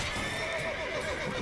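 A horse in The Witcher 3 video game whinnies over soft hoof clops, steady and moderately close against a constant background hum.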